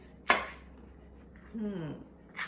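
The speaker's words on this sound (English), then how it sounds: "So let's just cut until we get some 2-inch pieces here." Asparagus sliced into 2-inch pieces on a cutting board for a pork stir fry, one sharp knife chop followed by a softer cut and another faint tap.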